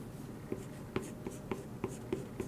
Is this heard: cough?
no